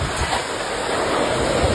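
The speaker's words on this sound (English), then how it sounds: "Huge waves meanwhile hammer the coast of Pantao, Libon, still in Albay." Huge waves from Super Typhoon Fung-wong pounding the coast of Pantao, Libon in Albay, Philippines, a constant loud roar of surf mixed with wind buffeting the microphone.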